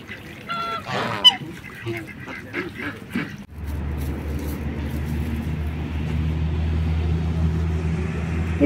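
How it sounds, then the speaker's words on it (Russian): Geese honk in a quick series of close calls near a park pond with swans, followed by a steady low traffic-like rumble after the calls stop. "Гуси, гуси."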